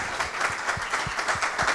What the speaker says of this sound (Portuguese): Eu peço uma salva de palmas a todos